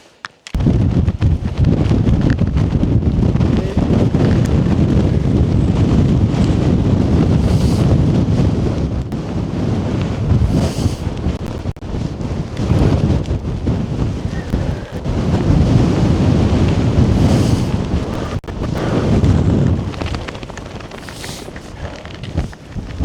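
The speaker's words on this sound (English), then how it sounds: "Oh, it's breezy out there." Strong gusty wind buffeting the microphone on a mountain ridge in Glencoe, a loud continuous roar that swells and eases in waves over about twenty seconds, with no voices.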